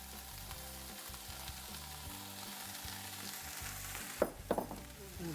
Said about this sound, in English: now I'm going to throw the mushrooms in